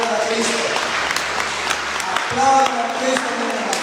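A church congregation at a Spanish-language service claps, a steady wash of many hands spread across the room beneath a preacher's voice.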